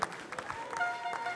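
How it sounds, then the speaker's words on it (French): Committee members stand and applaud young pastry chefs at the 2013 Coupe du Monde de Pâtisserie, a steady wash of crowd clapping heard at a moderate distance under a voice talking. "tous les membres du comité sont debout pour applaudir et fêter ces jeunes pâtissiers"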